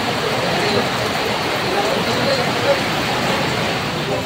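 Heavy rain pouring at an outdoor livestock auction market for cattle, carabao and horses, a dense steady wash of noise throughout.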